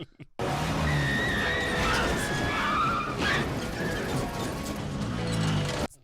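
A car chase tearing through the streets of Paris in a film scene, with loud, continuous engine roar and squealing, skidding tires filling the whole stretch, no talk over it.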